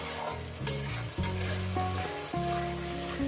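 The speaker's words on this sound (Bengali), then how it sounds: "এক মিনিট একটু কষি নেব" Mutton curry masala with potatoes sautéing in a pan, a close steady sizzle with a few stirring knocks over short bursts, no voices.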